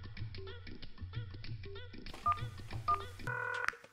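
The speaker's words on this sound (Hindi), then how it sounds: "का जरा तेरा फोन तो दे।" Phone keypad tones beeping in quick succession as a number is dialed on a mobile phone, short DTMF bursts spaced irregularly with a closer, louder tone near the end, fairly clear and isolated.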